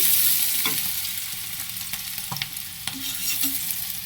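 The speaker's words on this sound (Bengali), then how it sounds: "কড়াইটা বেশ গরম হচ্ছে, একটু নেড়ে চেড়ে দিতেছি" Chopped chilies and onions frying in a hot wok, with a continuous sizzle and a few light scrapes and clinks of the stirring spoon, close and clear without speech.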